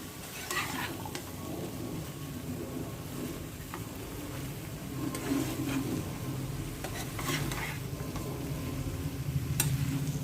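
Spicy cauliflower hot roast with ground green chillies being stir-fried hard in a pan, a steady close sizzle broken by repeated spatula scrapes and light clinks of metal, with no talk.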